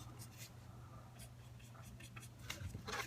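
A pencil scratches across paper while sketching a unipolar neuron: soft, close strokes in short uneven bursts over a low steady hum, growing a little busier near the end.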